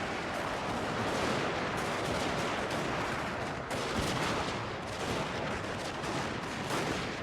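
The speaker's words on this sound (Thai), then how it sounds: "มันยิงดีมากเลยนะ มันยิงรัวมากเลยนะ" Massed rifle and artillery fire in the video game Total War: Shogun 2 Fall of the Samurai, a continuous dense roar of overlapping shots with occasional sharper cracks, steady and fairly loud throughout.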